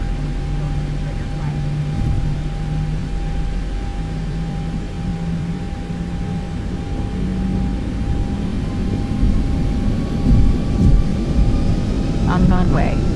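Boeing 737 jet engines spooling up for takeoff on runway 28 in the X-Plane 11 flight simulator, a steady broad roar with a low drone and a constant tone that swells slightly near the end, with talk over it.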